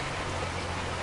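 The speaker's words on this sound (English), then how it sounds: "I do like the rain effects." Steady rain from the Farming Simulator 25 video game, a dense even hiss of falling drops with no gaps, heard close and fairly loud.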